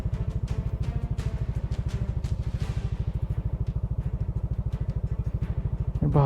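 A motorcycle engine chugs steadily at low revs in a fast, even thumping pulse on a narrow mountain road, close and loud throughout, with a brief rev at the very end.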